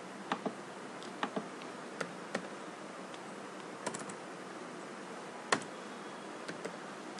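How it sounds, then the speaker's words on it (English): Computer keyboard typing while entering a question into software, sparse, soft, close key clicks in irregular bursts over faint background hiss. "Just click on this and start typing your question here."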